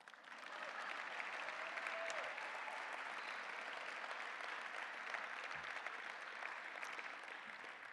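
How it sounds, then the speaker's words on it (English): An audience at a gala applauds steadily for the full eight seconds, a dense, even wash of clapping heard from within the room. "Clap."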